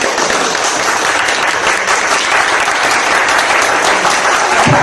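Loud, dense audience applause fills the whole stretch at a steady level, a crowd clapping hard together at a motivational education talk in Hindi, with no voices rising above it.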